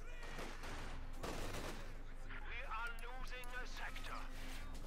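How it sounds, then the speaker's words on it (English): MG42 machine gun fire in the real-time strategy game Company of Heroes 2, rapid bursts crackling in the background amid other battle noise, with a commentator talking over it throughout. "More MG42 chains in the match, and they're quickly losing Jorgen there to"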